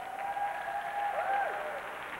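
A hair show audience gives David Gavaya a steady round of applause, a soft even wash of clapping with a sustained tone ringing over it.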